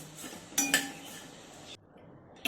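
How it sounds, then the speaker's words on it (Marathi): Roasted coriander seeds are transferred from a pan onto a plate, with two close metallic clinks of utensils, a steady soft rustle of seeds between them, and another clink at the end. "आता आपण हे धने जे आहेत ते ताटात काढून थंड व्हायला ठेवून देऊयात"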